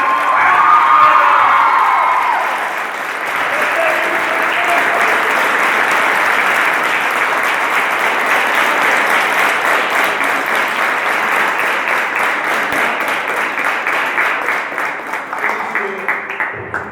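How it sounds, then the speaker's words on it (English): A large audience at a college literary festival's valedictory session gives a sustained, thundering round of applause that fills the hall, starting loud with a few early shouts, then holding steady for a long stretch before thinning near the end. "a thundering round of applause for the entire department"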